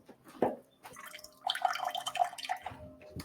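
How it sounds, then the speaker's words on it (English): Cold water runs from a kitchen faucet with weak pressure, a faint, uneven trickle with scattered drips and splashes into the sink and no talking. "This is our cold water pressure in the kitchen."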